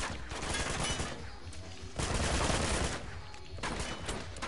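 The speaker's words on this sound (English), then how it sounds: "this is a machine gun" Loud bursts of automatic machine gun fire in the video game Uncharted: Among Thieves, rapid repeated shots in several surges with a dense, crackling spread.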